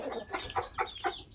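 Chickens in a small backyard coop cluck in a run of about five short, nasal, evenly spaced calls, fairly close and clear, with no talk over them.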